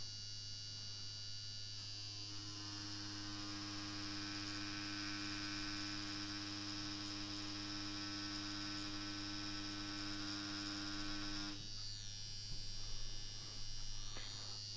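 A Yilong F6 wireless tattoo pen buzzes on practice skin with a steady, close electric whine and hum, holding an even pitch for most of the stretch before the tone shifts and roughens as the needle works.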